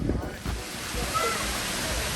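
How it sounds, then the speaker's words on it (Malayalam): Steady, broadband rush of an artificial waterfall at Khor Fakkan, UAE, fills the whole stretch, loud and continuous, with faint voices underneath. "നല്ലൊരു വെള്ളച്ചാട്ടം കണ്ടിട്ട് ആർട്ടിഫിഷ്യൽ തന്നെ ഉണ്ട്"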